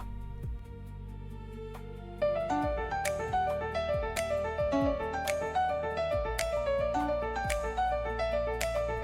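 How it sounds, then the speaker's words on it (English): Upbeat, polished AI-generated podcast intro music at 110 BPM, no vocals, with driving piano chords and a steady light percussion beat, bright and clean, with a bass line entering after a soft opening. "Corporate podcast intro, confident and professional, driving piano and light percussion, modern and clean"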